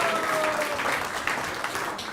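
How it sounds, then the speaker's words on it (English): Short burst of audience applause at a temple Sunday feast, an even patter of many hands clapping, moderately loud, with a faint voice murmuring underneath. "Let's give them a big round of applause."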